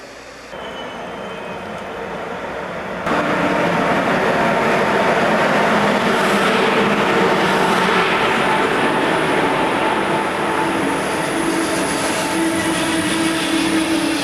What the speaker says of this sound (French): Je vais faire un petit tour en ICE.